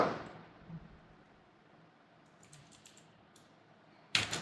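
A few quiet keystrokes tapped out on a computer keyboard while entering Python code, sparse soft clicks around the middle and a louder burst of keys near the end, with a brief noisy rustle at the start.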